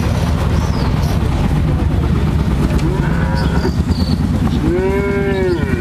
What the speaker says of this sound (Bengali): দর্শক ভাইরা দেখান গরুটা